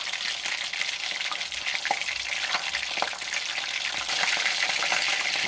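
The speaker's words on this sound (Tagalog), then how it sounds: "Piniprito ko yung tilapia na yan." Tilapia sizzling and frying in a pan for an Ilocano dinengdeng, a steady dense crackle throughout with occasional stirring scrapes, close and fairly loud, no voices.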